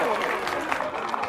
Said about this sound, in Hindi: जोरदार तालियों से स्वागत हमारे मंत्री जी का